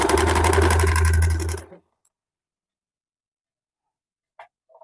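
A sewing machine whirs loudly and steadily at close range for under two seconds as it stitches piping cord onto a blouse, then stops abruptly, leaving near silence with a faint click or two afterward.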